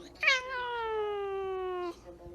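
A single drawn-out cat meow, clear and close, sliding slowly downward in pitch for well over a second.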